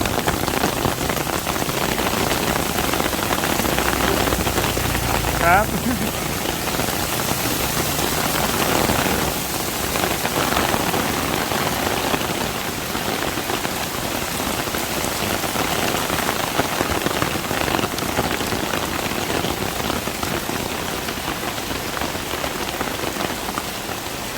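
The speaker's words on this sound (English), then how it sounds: "And it just starts pouring." Heavy rainy-season rain pours down in Bangkok without letup, a loud, dense hiss of drops striking surfaces close by throughout. No voices are heard.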